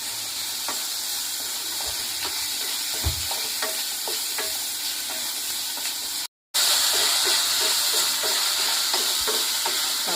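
Onion and sauces for paneer chilli sauté in a pan, giving a close, steady sizzle and hiss with scattered stirring clicks and scrapes, briefly cutting out midway before sizzling resumes louder.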